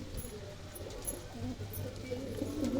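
Pigeons coo softly in a low, steady murmur, repeated calls blending with faint background noise and occasional higher chirps, fairly close and continuous.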